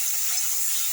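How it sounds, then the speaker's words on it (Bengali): Spice mix frying in a pan after the onions have browned, giving a steady, close hiss of sizzling with no voices over one brief moment. "মশলাটাকে ভালো করে ভেজে নেব।"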